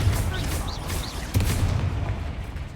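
Confringo blasting spell in the video game Hogwarts Legacy, a dense rumbling burst of explosive booms with a sharper crack midway, loud and close amid combat noise.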